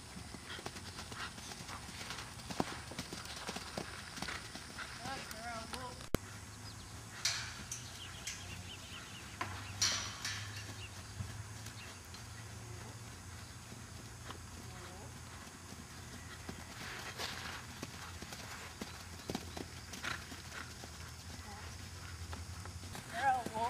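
Welsh mare pony of about 12.2 hands trotting in a show ring at a festival, hooves clip-clopping faintly and rhythmically at a distance, with a person talking over parts of it.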